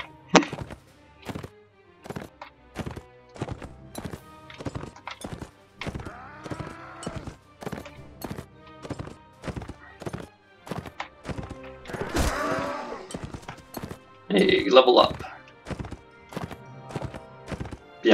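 Horse hooves in the video game Mount & Blade Warband, a string of sharp clip-clop thuds with a brief whinny near the end, mixed with game clatter and a short spoken remark.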